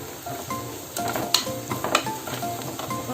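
Sliced onions sauté in a pan as chili powder goes in, making a close, lively sizzle broken by sharp spatula scrapes and stirring clinks, with no talking.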